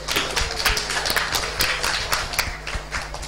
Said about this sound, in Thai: ปรบมือให้กับสุภาพสตรี